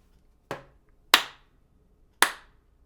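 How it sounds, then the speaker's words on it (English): Three slow, sharp hand claps spaced well apart, each ringing out briefly in a quiet room. "slow clap."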